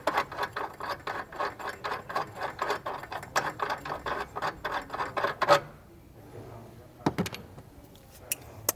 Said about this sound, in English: And we can just thread this out by hand.